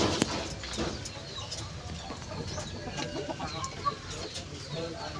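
Pigeons in a breeding loft coo and flutter in a steady busy murmur, with occasional wing claps and soft clucking calls close by.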